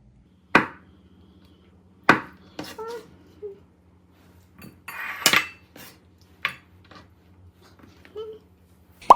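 A knife strikes a cutting board chopping spring greens in sharp, irregular chops, about eight distinct hits with short pauses between, close and fairly clear over a faint steady hum.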